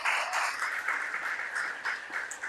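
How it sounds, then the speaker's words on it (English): Applause from an audience at a spring fiesta and Juan Seguin school reunion, honoring student athletes; dense, continuous clapping at moderate distance, filling the whole moment with no talk over it. "they deserve a round of applause"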